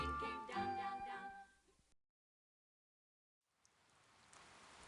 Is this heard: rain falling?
yes